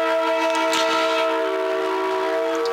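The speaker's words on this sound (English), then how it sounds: "we have a train in the background tonight accompanying us" A train passing just below a high school soccer field at night, its sustained multi-tone horn blaring loud and steady throughout, with no voices over it.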